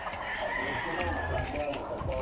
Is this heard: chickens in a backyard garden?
yes